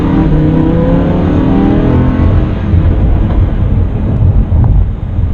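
A 2016 Lamborghini Huracan LP580-2 accelerating hard, a loud rising engine roar with strong wind buffeting, heard close and continuous throughout.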